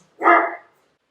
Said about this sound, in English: And this dog is really annoying me.